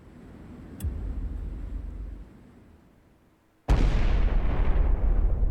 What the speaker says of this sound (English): A massive explosion tears through the air.